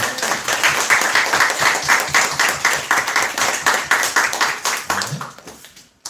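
Church congregation clapping in blessing during a Sunday morning worship service, loud, close, rhythmic applause that holds steady for several seconds before tapering off and fading at the end.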